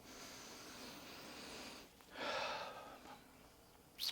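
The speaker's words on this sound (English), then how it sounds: "So let's sniff this one out." A close, breathy sniff of a fragrance tester lasting about a second, followed by a quick second sniff, against quiet background hiss.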